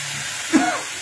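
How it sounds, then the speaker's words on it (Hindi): A soft hiss and gentle sizzle as cauliflower mushroom cooks slowly over a low flame, with a brief swell of bubbling in the middle. "अब हमने डाल दी है और ये धीमी आंच में पकती रहेगी"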